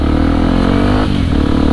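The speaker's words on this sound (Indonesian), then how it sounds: "Jadi Kang Ajgum mau nge-review motor ini, si biru." A blue motorcycle's engine runs steadily and close up, with a continuous low throb and no break or voices.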